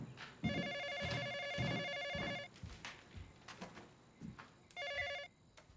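A telephone bell rings in rapid repeated bursts, two long rings followed by a third shorter ring, at moderate volume indoors with quieter sounds between.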